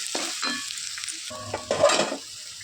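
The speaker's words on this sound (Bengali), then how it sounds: "যে কুচিয়ে রাখা পেঁয়াজগুলোকে একটু ভালো করে ভেজে নেবে" Chopped onions sizzle and fry in a pan while being stirred, with several scraping strokes of the spoon against the metal over a steady crackle, close and moderately loud.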